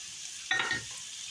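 Peppers and onions drop into hot rendered sausage pork fat and burst into a loud, close sizzle that flares for a moment, then settles into a quieter crackle.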